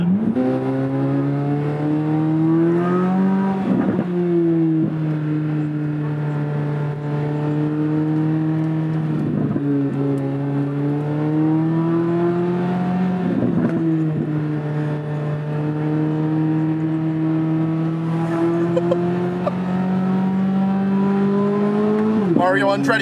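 Corvette C8 Z06 engine accelerating hard in repeated pulls during a ride along, loud and close with rising pitch sweeps that drop at each shift, several gear changes across the run.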